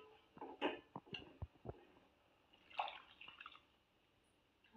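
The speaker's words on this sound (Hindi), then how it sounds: "मैंने 2 कप सूजी लिया था, इसलिए मैं 4 कप पानी डाल रही हूँ।" Water is poured onto semolina for vegetable upma, heard as quiet, intermittent splashes and drips in a kitchen, with short bursts separated by pauses.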